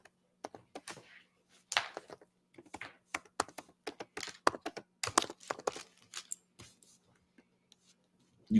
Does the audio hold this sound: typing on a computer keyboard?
yes